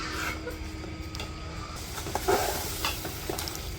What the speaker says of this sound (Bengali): মাংসগুলো কষাই নিই।